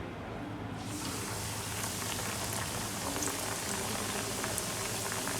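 A zinger burger patty fries on high heat in a home kitchen, giving a dense, continuous sizzle and crackle close by that swells in after the first second and holds steady.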